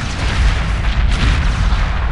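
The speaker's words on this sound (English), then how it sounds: "Oh, the explosions!" Video game explosions from Homeworld: Remastered roar as a continuous, loud, dense rumble of blasts filling the whole stretch, with no talk over them.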